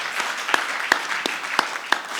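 An audience applauds at a talk on immigration, a dense steady wash of many hands clapping with a few sharper claps standing out, close and continuous with no speech over it.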